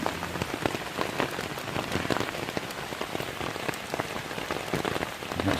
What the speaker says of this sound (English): It's absolutely pouring down now.